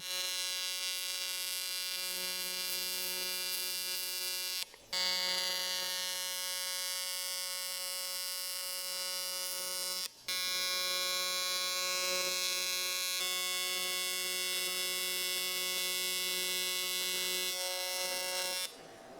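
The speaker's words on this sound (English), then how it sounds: "then I'll weld up this other area" Welding on the deck of an aluminum LS/LT engine block, adding material to fill low spots: a steady, close electric buzz with a tonal hum that runs continuously, broken only by two brief pauses.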